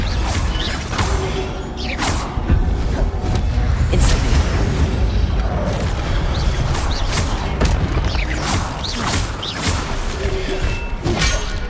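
Incendio fire spell cast in Hogwarts Legacy during a night raid on the library's Restricted Section, heard as repeated whooshing bursts and dull thumps over a dense, rumbling game ambience.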